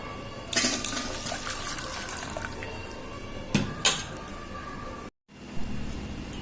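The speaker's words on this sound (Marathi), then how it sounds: "शेंगातलं पाणी काढून घेते" Water splashes and trickles out of a pot of boiled pods into a sink, with a few clanks of metal cookware and a brief cut to silence near the end.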